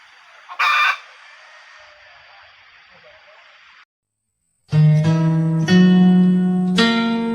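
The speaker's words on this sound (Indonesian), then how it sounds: "Ayam tuh di sini." Village chickens in a remote rural settlement: a short cluck over faint background hiss, a brief silence, then a rooster crows loudly and at length, close by.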